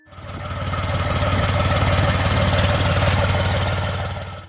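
Massey Ferguson MF-135 tractor with a Perkins three-cylinder diesel engine running, a loud, close, steady knocking idle with a pulsing low rumble that fades in and out.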